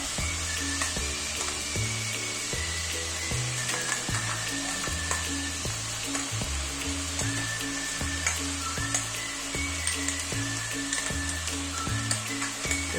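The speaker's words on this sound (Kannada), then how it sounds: "ಈಗ ನಾವು ರುಬ್ಕೊಂಡಿದ್ದೀವಲ್ಲ ಮಸಾಲೆ, ಈರುಳ್ಳಿ, ಹಸಿರು ಮೆಣಸಿನ್ಕಾಯಿ, ಪುದೀನ ಹಾಕ್ಕೊಂಡು ಆ ಪೇಸ್ಟ್ನ ಇವಾಗ ಸೇರಿಸ್ಕೊತಾ ಇದ್ದೀನಿ" A ground masala paste of onion, green chili and mint fries in hot oil for chicken pulao, giving a steady, loud sizzle and crackle that runs without pause, with rhythmic stirring scrapes in the pan and no talking.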